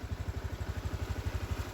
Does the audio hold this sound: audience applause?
no